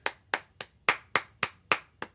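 A single pair of hands claps eight times in a steady, even rhythm, close and distinct with no talk over it, applauding a guest presenter at an RCOS meeting.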